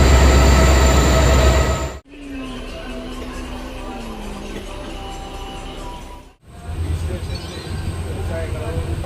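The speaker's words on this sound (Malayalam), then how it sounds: "Train എത്തിപ്പോയി guys." A passenger train pulls into a station platform with a loud, steady rumble of carriages and wheels, broken by two brief gaps, while voices carry on nearby.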